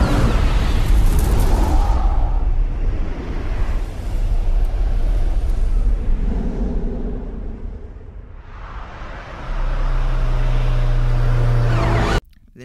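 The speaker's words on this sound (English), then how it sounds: "The music then cuts immediately as the car hits the sign" In a film scene, a car crashes into a sign with a loud, dense burst. Roaring vehicle noise and music give way to a lower sustained rumble, which breaks off abruptly near the end.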